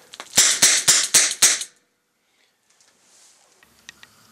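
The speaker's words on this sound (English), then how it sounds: "I've fired these several times through my 4-inch Smith & Wesson Model 586" A 4-inch Smith & Wesson Model 586 revolver firing Speer plastic training bullets indoors: five sharp, loud shots in quick even succession, then near silence with a few faint clicks.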